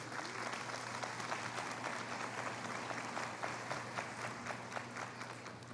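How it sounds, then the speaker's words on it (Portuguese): A church congregation gives a warm round of applause, a dense, even wash of clapping from many hands filling the room at steady loudness throughout, with no voices over it. "Vamos recebê-los com carinho, com uma salva de palmas"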